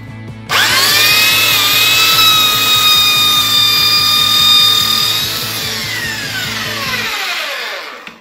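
A Makita belt sander with an 80 grit belt grinds through wood veneer, a loud, steady high-pitched whine that starts abruptly, holds for several seconds, then winds down as the motor stops.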